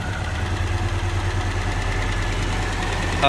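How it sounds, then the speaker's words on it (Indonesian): An older used car engine idles steadily up close, a low, even mechanical rumble with a slight rise at the very end and no talk. "Sekarang coba kita dengarkan untuk suara mesinnya. Ini mesinnya udah nyala teman-teman."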